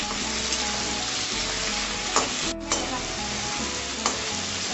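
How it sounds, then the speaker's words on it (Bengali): Crushed garlic sizzles steadily in a hot pan while an egg biryani is being made, a continuous close frying hiss broken by a few brief stirring scrapes. "রসুনটা আমাদের ভাজা হয়ে গেছে।"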